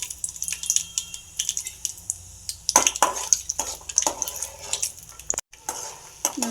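Peanuts tossed into hot oil in a kadai for sabudana uppittu give close, scattered crackles, pops and light clattering over a faint sizzle, with no talking.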